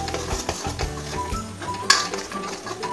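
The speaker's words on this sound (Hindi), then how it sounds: "चलाते हुए हमें थोड़ी देर भूनना है" Laddoo mixture being stirred and roasted in a pan for a Navratri bhog sweet, with a spoon scraping and knocking against the metal in a steady, irregular rhythm, close and moderately loud, plus one sharper clink near the end.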